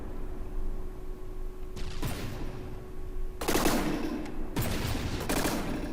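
Auto cannons firing on a warship at a submarine in the naval video game From The Depths, in loud rapid bursts of booming shots that break over a steady low engine hum.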